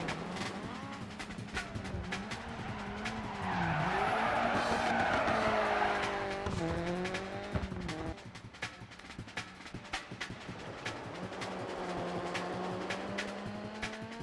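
A rally car in the Dirt Rally 2.0 video game revs and slides through hairpin turns, its engine pitch rising and falling between gear changes while gravel skids and tire squeal swell up during the slides.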